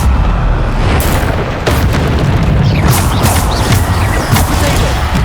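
Booming spell explosions in Hogwarts Legacy gameplay, a loud dense rumble with repeated blasts and crackling bursts layered throughout, with no break.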